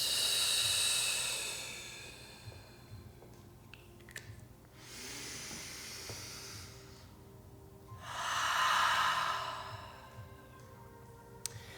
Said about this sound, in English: And take some breaths.